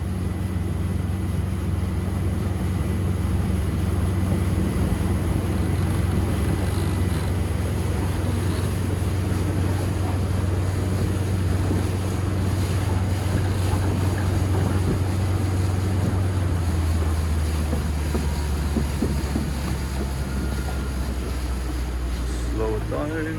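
A 2021 Zodiac Open 6.5 RIB powered by a Mercury 150HP outboard cruises at steady economical speed, a continuous low engine drone with wind and water wash throughout, easing off slightly near the end.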